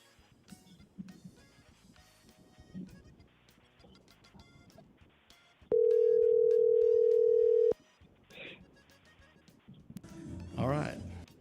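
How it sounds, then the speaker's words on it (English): A telephone call goes out on a live radio show, heard as a single steady tone lasting about two seconds amid faint background music and low studio sound. "I've got to make a quick phone call"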